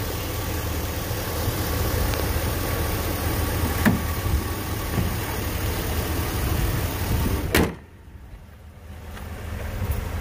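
A deep, steady 6.0-liter Vortec V8 engine of a 2005 Chevy Silverado 2500HD pickup idles close by with a constant low rumble, then cuts off abruptly near the end, leaving quieter background noise.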